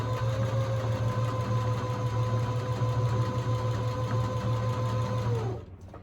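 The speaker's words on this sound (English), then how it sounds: "I am going to kind of strip sew it all together." A sewing machine strip-sews quilt pieces with gray thread, a steady, close mechanical whir and hum that runs evenly for several seconds, then stops abruptly near the end.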